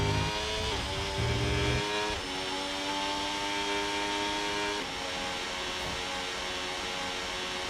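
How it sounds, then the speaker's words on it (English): A race car engine in the F1 25 video game, 2026-season car at the Shanghai circuit, holds a loud, steady high-pitched whine with a brief drop and wavering revs, close and alone. "Engine going wobble wobble."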